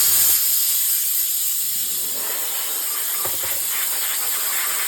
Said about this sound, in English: Now come over here and spray that off.